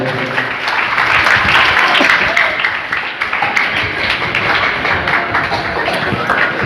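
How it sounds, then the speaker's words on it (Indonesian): Audience applause for a questioner at a poetry study session, a loud, sustained room of clapping with no breaks that holds steady throughout. "Tepuk tangan dulu untuk penanya barusan"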